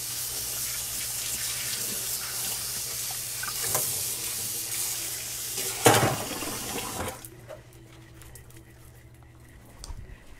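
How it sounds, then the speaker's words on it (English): Tap water runs steadily into a kitchen sink while an onion and a knife are rinsed for ceviche, a close, even hiss with a few clunks before the flow stops and the room goes quiet. "I'm gonna rinse the onion and I'm gonna rinse the knife."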